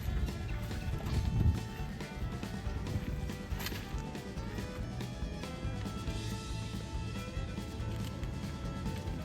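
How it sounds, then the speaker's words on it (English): A single horse's hooves clip-clop in a steady rhythm at a rustic pioneer-style camp, close and continuous over low outdoor rumble, with a brief louder thump early on. "Now we beefed up our horse to where we only need one."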